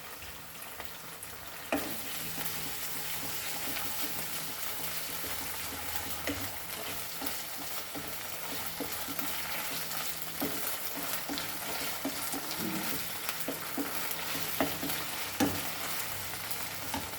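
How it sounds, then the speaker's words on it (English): Ginger garlic paste frying in a pan for a squid masala noodle dish, giving a steady, dense sizzle throughout with a few sharp clicks of a utensil against the pan. "Now we will add our ginger garlic paste to this."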